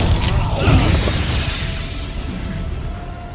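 Two clashing cartoon explosions of darkness and light in Lego Ninjago: a deep booming blast that swells, then a long rumbling, crackling wash that slowly fades.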